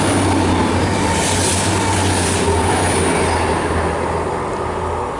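A train rumbles steadily past an allotment right beside the railway, a loud, close, continuous roar of wheels on track with a low hum and faint squealing, and no talking.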